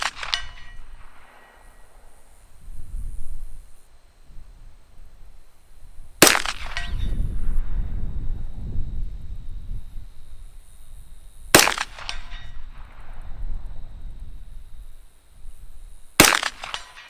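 Four sharp gunshots from Taurus pistols, spaced several seconds apart, with wind rumble filling the gaps between the cracks.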